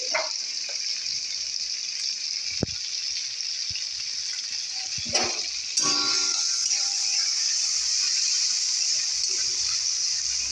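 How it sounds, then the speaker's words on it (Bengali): Shrimp fry in a pan with a steady, bright sizzle that runs throughout at moderate level, broken by a few clinks and stirs, and the hiss swells slightly midway. No one speaks. "তাকে আগে একটু ভেজে নিই চিংড়ি মাছটাকে"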